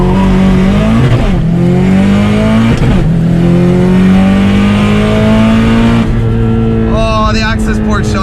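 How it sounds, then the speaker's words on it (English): A 500HP Subaru STI with a rotated turbo and Tial Q blow-off valve launches hard with its tires spinning. The engine revs loudly in rising sweeps broken by brief dips, with tire squeal mixed in near the end. "give you guys a good launch here"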